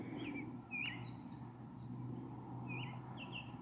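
Several birds chirp and tweet outside around dawn on a June morning, short bright calls repeating at a moderate distance over a steady low background hum.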